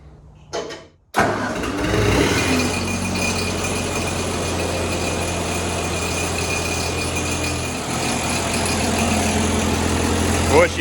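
A Ford 8N tractor's engine, in neutral with no choke needed on a hot day, is cranked with a brief rattle, then catches and settles into a loud, steady idle that runs evenly to the end.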